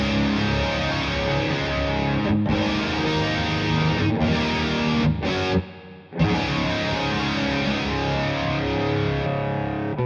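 Electric guitar played through an AmpliTube Orange amp simulation with chorus, thick distorted sustained chords with a few abrupt stops and brief silences.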